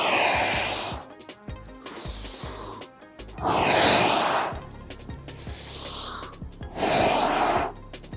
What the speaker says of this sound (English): we're gonna steadily exhale powerfully